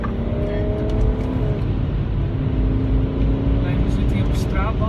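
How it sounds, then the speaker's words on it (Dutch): A 2007 BMW E91 330d diesel wagon on street tyres runs at full throttle on the Nürburgring Nordschleife, giving a loud, steady engine drone with cabin rumble. Someone talks over it throughout. "En vol gas draaien."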